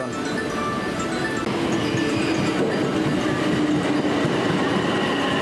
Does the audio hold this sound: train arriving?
yes